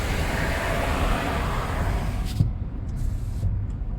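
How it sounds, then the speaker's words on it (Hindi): A car passes outside, heard through the open window of a Harrier EV as a steady broad road rush that cuts off sharply as the window closes, leaving a quiet cabin. "अब देखो वो गाड़ी जो गई थी उसकी आवाज़ आ रही थी"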